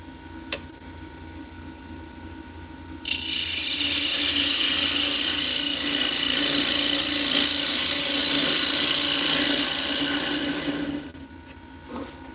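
A wood lathe gouge takes a clean finishing cut on a spinning walnut and cherry lidded bowl, a steady loud hissing, scraping roar lasting about eight seconds before it stops, with a quieter machine hum before and after.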